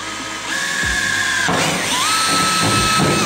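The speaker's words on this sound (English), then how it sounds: "the last clip you just saw was me drilling the holes" A power drill bores holes in the trunk of a Subaru WRX for an STI wing, two whining bursts, each rising in pitch as the bit spins up, loud and close over a mechanical hum.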